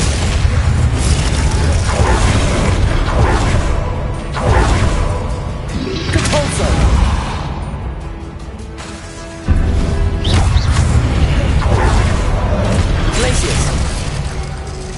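Glacius ice spells are cast repeatedly in Hogwarts Legacy, loud booming crashes and whooshing bursts in quick succession amid other spell effects and a voice calling out.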